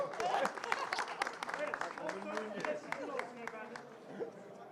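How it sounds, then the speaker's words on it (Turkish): Scattered applause and clapping at a film premiere gala for the Turkish film Prestij Meselesi, crisp individual claps mixed with crowd chatter and talking voices nearby. "Alkışlar o zaman Lavin Hanım."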